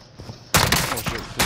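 Gunfire from a shooter video game: a dense burst of loud shots erupts midway and continues rapidly, preceded by quieter game ambience, no speech.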